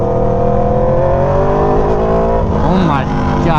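An Aprilia Tuono V4 motorcycle, fitted with a quick shifter and auto blipper, roars loudly and steadily while being ridden, the engine note rising and shifting near the end under wind noise.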